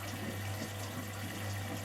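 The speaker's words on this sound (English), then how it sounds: "while it's filling, it will continue going this way until it is full of water" A Philco PA207 washing machine fills with water as its drum turns, giving a steady, even rush of water over a constant low mechanical hum that holds for the whole stretch.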